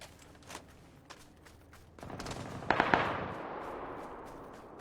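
Gunfire in a shooter video game heard from a hilltop: a few faint scattered pops, then a louder cluster of sharp shots and a brief rattling burst that trails into a wash of distant noise.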